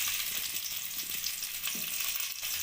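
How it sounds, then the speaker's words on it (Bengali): Whole cumin and crushed garlic fry in hot oil, making a continuous close hiss and crackle with small bubbling pops, moderately quiet and steady, with no one talking. "আমি বড়ি ভাজার তেলের মধ্যেই আমি ফোড়ন দিয়ে নেব।"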